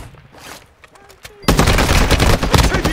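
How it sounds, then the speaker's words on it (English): Enemy gunfire in the video game Warzone 2.0 breaks out suddenly as a loud, dense burst of rapid automatic shots that continues to the end, following a quieter stretch with brief voice chatter. "Taking enemy fire!"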